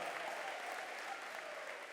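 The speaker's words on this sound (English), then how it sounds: "So give him a big round of applause one more time." An audience at a high school college signing ceremony gives a soft, continuous round of applause, even and slightly distant throughout.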